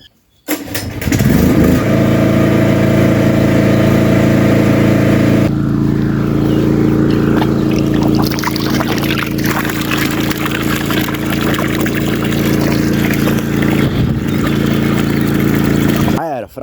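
Petrol-powered pump on a farm, filling water until it overflows: an engine is started and then drones loud and steady throughout, with water rushing and splashing alongside and people talking over it.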